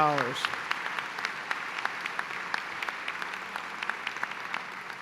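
Gala audience claps for major donors at a society fundraiser, a broad steady applause with some sharp individual claps standing out, following a brief voice at the start.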